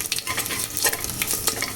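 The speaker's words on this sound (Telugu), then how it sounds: "ఇప్పుడు ఉల్లిపాయలు వేస్తున్నాను" Chopped onions sizzle loudly in hot oil in a pan while pongal is being made, with stirring scrapes over a steady frying hiss, close and continuous with no talk.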